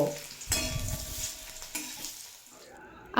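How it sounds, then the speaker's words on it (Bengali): Boiled potatoes fry in a pan with tempered spices for a raw banana dish, a soft sizzle with a couple of stirring scrapes, close and fading toward the end. "এড করে দেব সিদ্ধ করে রাখা আলু দিয়ে এক মিনিট মতো ভেজে নেব"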